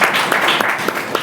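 Congregation applauding at a church service, a brief burst of loud, fairly quick clapping with a few sharper claps standing out.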